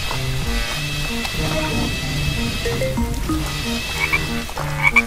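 Cartoon frogs croak repeatedly in a backyard during play in the rain, a dense chorus of rhythmic croaks over light music and rain-like hiss, with brief higher chirps near the end.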